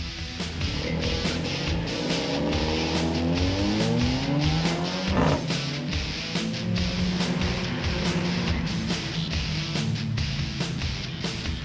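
Race car engine roaring steadily through a track corner at speed, with rising and falling engine harmonics and tire noise as the driver pushes hard under ABS braking; loud, close and continuous with no talk.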